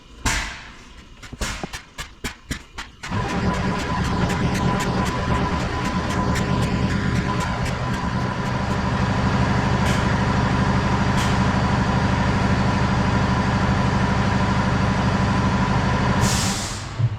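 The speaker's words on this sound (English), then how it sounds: "The diaphragm pump, this thing is amazing." Diaphragm pump transferring B100 biodiesel oil: a few sharp clicks, then a steady loud mechanical rhythmic pulsing and hum running nearly continuously, ending with a brief hiss of air.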